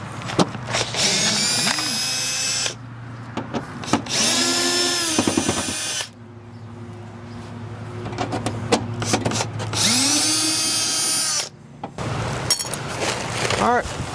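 A Milwaukee power drill backing screws out of the J-wrap trim on an RV, in loud repeated whirring bursts of several seconds each, close up, with a voice talking between runs.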